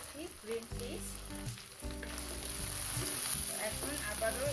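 Green peas drop into a frying pan of lightly fried ginger and garlic for fried rice, bringing a close, steady sizzle with stirring scrapes. Soft tonal sounds murmur underneath.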